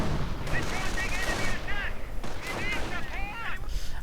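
Browning automatic rifle gunfire in a Company of Heroes 2v2 battle: rapid bursts of automatic fire with distant explosions and artillery, continuous and loud, under a commentator's voice.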